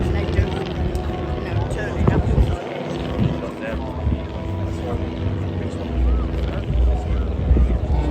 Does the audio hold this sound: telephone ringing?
no